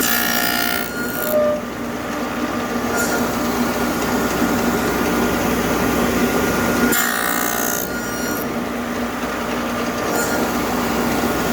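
Tool cutting wooden finger joints for a rustic box, a continuous rasping, rubbing cut with a couple of brief pauses between steps, loud and close.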